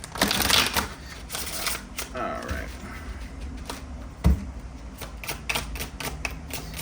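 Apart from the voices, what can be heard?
shuffling a deck of tarot cards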